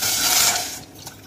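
Water poured from a bowl into a pot holding sugar for rasmalai syrup, a steady close splashing rush that thins out toward the end, heard alone.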